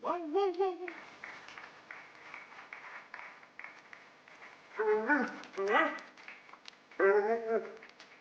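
A Labrador whimpers and yips in short high-pitched bursts, with quieter stretches between them and a soft background hum.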